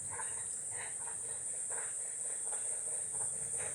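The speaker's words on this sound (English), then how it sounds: "And we can hear the frogs." Small frogs calling from mangroves near a beach after rain, soft repeated croaks and chirps at a distance under a constant high insect whine.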